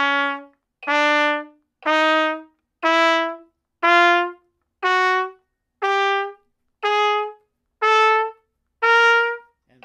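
A trumpet plays a slow rising chromatic scale of ten medium-length notes. Each tone is clear and evenly spaced, separated by short gaps, and no one speaks.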